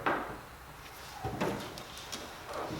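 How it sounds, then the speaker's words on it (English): A door on a gutted, roll-caged Lexus GS300 time attack car opens close by with several clunks and latch knocks spread across the moment, without voices. "Let me see if I can open this door."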